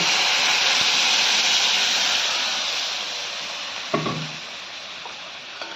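Lentils and a papaya mixture tip into a hot cooking pot, setting off a loud, broad sizzling hiss that slowly fades, followed by a few clinks of a utensil against the pot.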